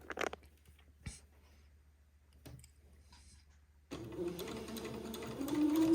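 A sewing machine runs a tiny 1/16-inch seam on a baby bubble garment, quiet at first with a few scattered clicks, then starts up partway through into a steady mechanical whir that grows louder toward the end.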